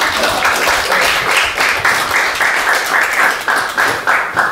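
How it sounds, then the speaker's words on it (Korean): An audience at a panel discussion gives a speaker a round of applause, loud, close and steady clapping from many hands, continuing throughout without talk. "큰 박수 한번 보내드리면 좋겠네요"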